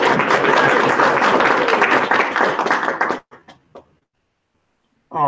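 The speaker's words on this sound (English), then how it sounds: "a round of applause for" A round of applause from an audience at a library design thinking training session, broadband clapping for about three seconds that cuts off abruptly, followed by a few scattered claps, then silence and a brief voice at the end.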